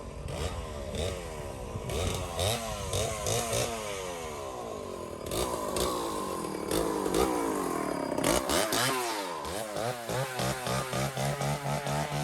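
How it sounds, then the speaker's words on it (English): A rough old chainsaw engine runs and revs unevenly, rising and falling in pitch, loud and close throughout with no voices. "I had to go through and actually let you guys hear that chainsaw."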